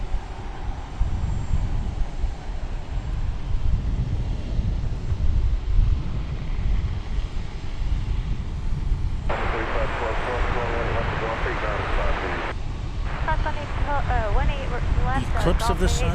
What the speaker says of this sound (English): next on the docket is that Dreamliner. It'll be a 7878 coming to us from Honolulu.